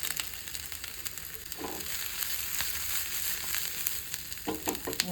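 Garlic, onion and broccoli sizzle and fry in a pan with a steady, fairly quiet crackle, broken by a few soft stirring clatters near the end.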